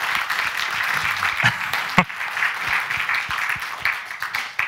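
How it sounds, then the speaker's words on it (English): Conference attendees applaud warmly for a few seconds, a thick, even burst of many hands clapping with occasional louder single claps and a sharp knock near the middle, fairly close in a room. "Guys, give yourselves a round of applause for a fantastic story."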